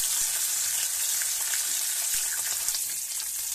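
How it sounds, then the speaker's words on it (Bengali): Fish sizzles in hot oil in a wok, a loud, bright, continuous frying hiss with faint popping, close up and without talk. "মাছটা ভাজা হচ্ছে"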